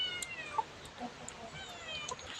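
A cat at a temple in Chae Hom, Lampang, Thailand, gives a few faint, short meows against quiet background noise.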